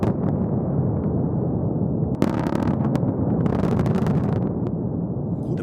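A massive mining blast in permafrost at a diamond mine, 330 tons of explosives, heard as a deep sustained roar with a sharp crack partway through and rumbling, crackling debris after, loud and continuous.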